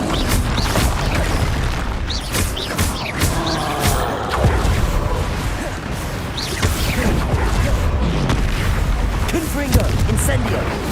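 Incendio fire spells in Hogwarts Legacy gameplay roar amid a dense, continuous combat din of booms, crashes and impacts, loud and sustained throughout.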